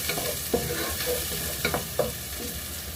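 Mixed vegetables with green chilies fry in a pan, with a constant close sizzle broken by several sharp scraping stirs and clinks of a spatula, and no talk.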